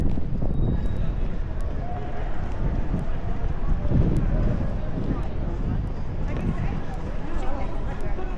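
Strong wind buffets the microphone in a steady, rumbling roar outdoors in New Zealand while people talk over it.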